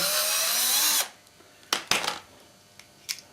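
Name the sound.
power screwdriver removing carbon brush screws from washing machine motor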